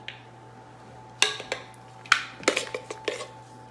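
A spoon scrapes and clinks against a bowl while partly melted chocolate is stirred, several sharp metallic taps and scrapes in an irregular rhythm, close and alone over a low hum.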